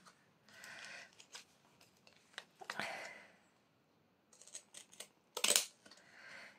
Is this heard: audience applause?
no